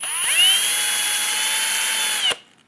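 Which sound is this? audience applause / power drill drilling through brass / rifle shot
power drill drilling through brass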